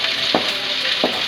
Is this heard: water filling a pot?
no